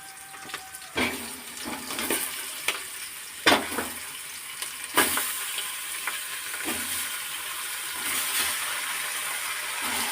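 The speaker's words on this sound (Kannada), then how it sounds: "ಇದು ಸ್ವಲ್ಪ ಚೆನ್ನಾಗಿ ಫ್ರೈ ಆಗಲಿ" Chicken and onion sizzle in hot oil for a Natti-style chicken chops tempering, a steady frying hiss broken by sharp stirring scrapes and clinks at irregular intervals, close and moderately loud with no talking.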